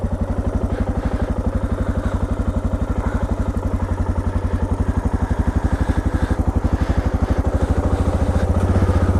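A motorcycle engine thrums at an even, rapid pulse while riding around a lake, loud and close throughout, with the revs rising slightly toward the end.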